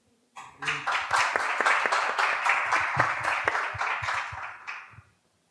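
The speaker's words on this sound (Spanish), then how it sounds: "Estos aplausos son el premio a la originalidad." An audience at a talk or debate breaks into applause, a dense burst of many hands clapping that starts abruptly, holds steady and loud for several seconds, then stops cleanly.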